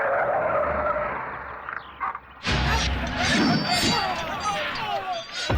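A car brakes hard to a stop, tires squealing and skidding in a long screech, followed by engine noise, thuds and commotion with voices mixed underneath.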